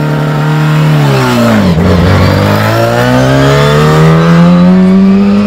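A supercar engine at a concours-of-elegance event revs hard toward 9,000 rpm on launch. It gives a loud, close, continuous howl that dips briefly and then climbs steadily in pitch, with no talk.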